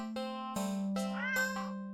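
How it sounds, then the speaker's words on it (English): A standard black cat gives one sustained close meow that bends upward in the middle, clear and alone against silence. "Cat, meow."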